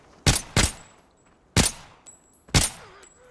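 Gunfire in the mobile looter shooter Arena Breakout: four sharp, loud shots in two pairs with gaps between them, each with a short tail, over a quiet background and no speech.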